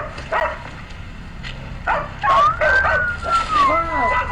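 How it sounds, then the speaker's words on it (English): Several dogs bark and yip from outdoor bushes, with sharp repeated barks, a whimpering whine and rising howl-like cries, fairly close and loud, mixed with people talking over them. "The dogs are barking."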